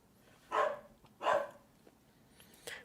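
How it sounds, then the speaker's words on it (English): A dog barks twice in quick succession at a moderate distance, the two sharp barks followed by quieter yips and small noises in an otherwise quiet room. "The dog is driving me nuts."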